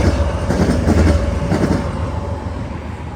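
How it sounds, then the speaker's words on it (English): A long intermodal freight mega train rolls past close by with a heavy rumble and rhythmic wheel clatter, continuous and fairly loud for the whole stretch. "The second intermodal, however, was one of the massive mega trains, so it had 2 DPUs,"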